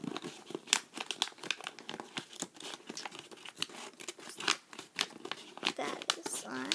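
Paper crinkling and crunching as it is folded and creased into a small box, with repeated close crackles and sharp creasing snaps. The handling is steady and continuous, and a voice talks quietly at times underneath.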